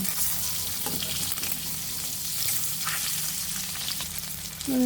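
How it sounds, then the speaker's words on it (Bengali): Eggs fry in hot oil in a pan with a steady, close sizzle that crackles evenly throughout, with a few faint scrapes from turning them. "তেলটা ভালোভাবে গরম করে নেব। এখন ডিমগুলো এর মাঝে দিয়ে দিব। ডিমগুলো দিয়ে দিয়েছি, এখন উল্টিয়ে নেব।"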